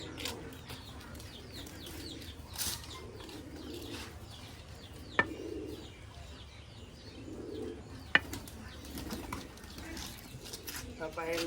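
Pigeons in a loft after feeding coo softly in a slow, repeating pattern, faint and somewhat distant, with two sharp clicks and scattered chirps.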